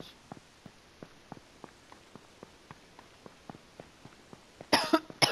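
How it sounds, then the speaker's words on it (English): A man coughs repeatedly during an H1Z1 Battle Royale game session, with a long series of short, dry, evenly spaced coughs and a louder burst of noise at the end. "I'm dying from this fucking cough"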